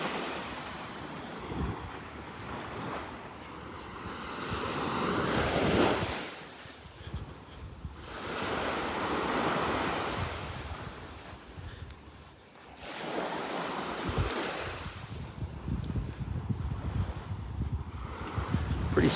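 Waves wash ashore at Pelican Bay Beach, with slow surges of surf rising and falling every few seconds under steady wind buffeting the microphone, no voices.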